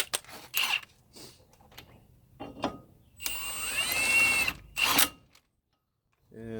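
A lug nut is run down to hold a brake rotor on a 2004 Nissan Sentra 1.8, with several bursts of whirring power-tool noise, one long sustained run in the middle, separated by brief quiet gaps.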